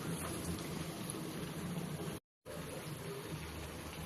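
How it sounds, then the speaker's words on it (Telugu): Sago vada frying in hot oil, a constant soft bubbling hiss that cuts out briefly for a moment before resuming at the same even level, no voice. "ఇలా రౌండ్గా ఉండ తీసుకొని ఇలాగ చుట్టుకొని వేడి నూనెలో ఈ విధంగా వేయాలి"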